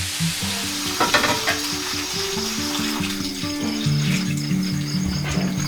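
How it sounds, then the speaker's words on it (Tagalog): Chicken intestines frying at a street food vendor's stall, sizzling in a steady, continuous hiss with brief stirring clatter, while a melody plays in the background. "the two are preparing the fried chicken intestines"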